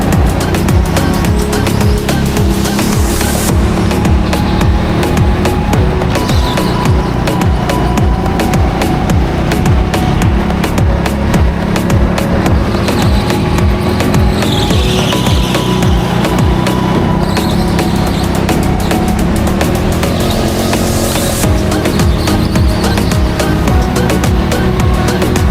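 A go-kart at TeamSport Leicester laps the indoor track, its engine buzzing loud and continuous, rising and falling through the corners with occasional tire squeal and rattling impacts, no voices.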